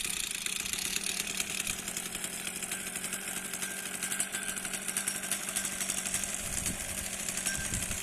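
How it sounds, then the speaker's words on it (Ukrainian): A chainsaw engine runs steadily and loudly throughout, a continuous buzzing drone with no pauses. "а зараз включаємо бензопилку"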